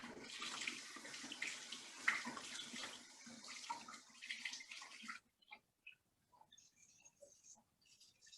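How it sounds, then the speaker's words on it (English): Tap water runs steadily into a sink for about five seconds while hands are washed, then shuts off, leaving a few faint drips and quiet handling noises. "I'm gonna go wash my hands real quick."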